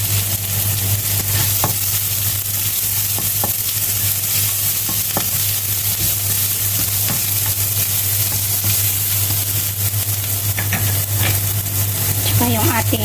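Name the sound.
chopped onion sizzling and stirred in pan for pork afritada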